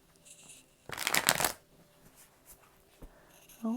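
Light Seers Tarot cards being shuffled by hand, one quick riffling burst of papery flutter in the middle of a quiet room, followed by a few soft taps and a faint shuffle.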